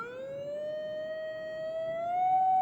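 A steady 750 Hz tone is produced by a motor vibrating a styrofoam cup, a pure sustained whine with faint overtones that swells slightly louder toward the end, heard alone.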